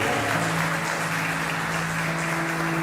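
A church congregation applauds in praise during a sermon, a dense, steady wash of clapping from many hands filling the room, with sustained organ or keyboard tones underneath.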